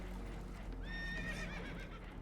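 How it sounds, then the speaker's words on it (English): Spooked horses whinny in a shrill, wavering neigh rising over a constant low rumble, with clip-clopping hooves and a churning background close by. "Horses are spooked"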